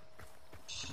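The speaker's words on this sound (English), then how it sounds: "here's the horse that I kept hearing" Horse hooves clip-clopping at a walk in a video game, a few soft footfalls over a steady ambient game hum, with a brighter high hiss swelling near the end.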